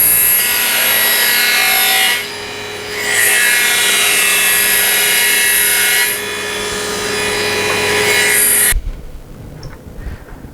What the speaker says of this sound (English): This time I'm using the Kreg. You can see the fingers pulling up, pushing against. Put the timber through.